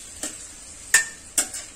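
Chopped onion and large tomato pieces frying in a pan while being stirred with a spoon, giving a soft steady sizzle with three distinct scraping clinks against the pan.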